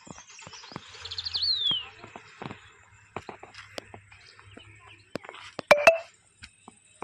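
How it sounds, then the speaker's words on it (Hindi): Small birds chirp on a quiet morning around nine in the calm hill village of Pangot, with several separate calls and short trills standing out over faint background hiss, some bright and close. "इतनी अच्छी चिड़ियों की चहचहाहट की आवाज़ आ रही थी"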